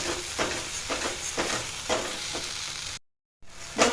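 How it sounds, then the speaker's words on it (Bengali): Spice masala fries in a pan with a close, steady sizzle, punctuated by regular scraping strokes of a spatula stirring it, briefly cut off before resuming. "চলো এবার মশলাটা ভালো করে ভেজে নেব।"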